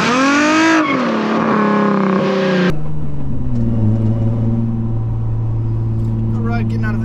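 A Nissan 350Z with new Z1 differential bushings pulls out of a neighborhood at low road speeds: its engine drones loud and close, the pitch rising and then settling into a steadier lower note as it shifts, with someone talking over it.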